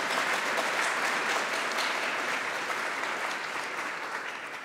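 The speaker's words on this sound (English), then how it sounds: "Round of applause, please." A conference audience at a Python developer gathering gives a sustained round of applause, a thick, even roar of many hands that holds steady and slowly tapers toward the end.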